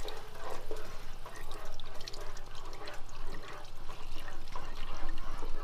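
Two cups of 1% milk pour steadily into a pan while being stirred, a continuous soft liquid wash with gentle sloshing close by, no talking over it.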